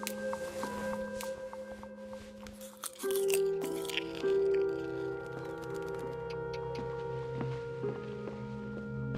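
Wet crunching bites and chewing from a character eating in the video game What Remains of Edith Finch, scattered crunches over a sustained tonal music bed that shifts partway through.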